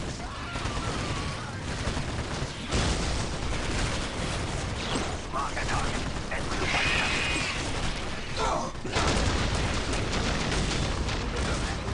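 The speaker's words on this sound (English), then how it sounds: "let's see if we can maybe throw some of these bombardments down" Artillery bombardment in Warhammer Dawn of War Dark Crusade, a dense, continuous roar of blasts and rumbling impacts with brief dips, loud and unbroken across the clip.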